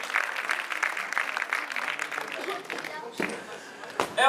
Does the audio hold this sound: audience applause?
yes